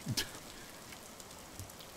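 Heavy rain falls steadily in a video game set in ancient Japan, a soft continuous patter with a couple of brief knocks near the start, no voices.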